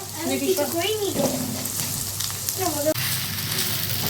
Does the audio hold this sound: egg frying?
yes